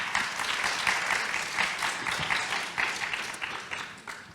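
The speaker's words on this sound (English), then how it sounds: "So if you could give them a round of applause," An indoor forum audience applauds panelists on environmental challenges and health security, with dense steady clapping that holds for several seconds and then thins out near the end.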